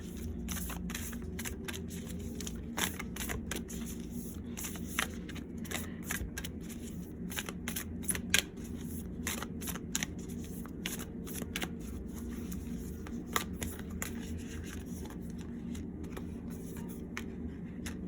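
Chakra oracle cards being shuffled for a reading, a long run of soft papery riffles and slides with sharper snaps now and then, close and quiet, with no voices.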